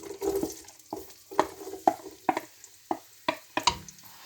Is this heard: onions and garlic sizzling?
yes